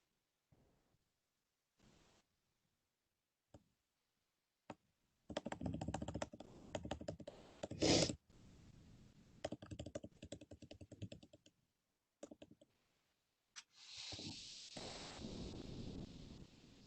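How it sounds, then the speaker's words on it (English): Someone types on a computer keyboard during a committee meeting, with close, irregular clusters of rapid key clicks broken by pauses, plus some rustling and microphone noise near the end. "while she's typing"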